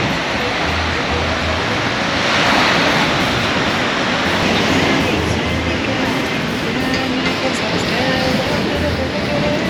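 Small, gentle waves wash steadily onto the sand at Playa Caracol on the Riviera Maya, a continuous broad surf hiss with soft rumbles beneath, close and fairly loud throughout, with no voices.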